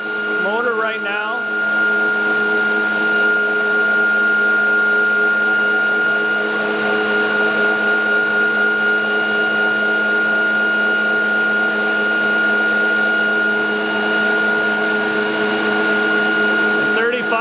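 ReGenX ebike hub motor spinning at speed in regenerative acceleration mode, giving a steady whining hum with stable tonal harmonics that runs loud and unbroken from start to finish.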